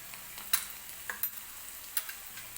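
Onion and turmeric fry gently in oil for a Maharashtrian potato bhaji, a soft steady sizzle punctuated by a few sharp ticks of a spoon stirring against the pan, close but fairly quiet.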